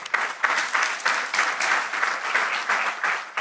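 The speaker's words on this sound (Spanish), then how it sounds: "Lo recibimos con un aplauso." An audience at a municipal good-practices congress claps to welcome a panel speaker, producing a dense burst of applause with audible individual claps, fairly close and lively throughout the few seconds.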